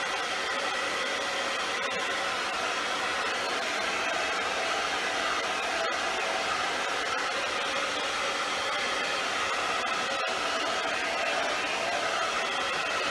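A hair dryer blows steadily on freshly washed hair just out of the shower, a loud, close, constant whooshing hum lasting throughout without pause, with no speech over it.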